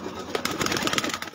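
Golden pigeons cooing nearby in a string of short, soft pulses over continuous background noise.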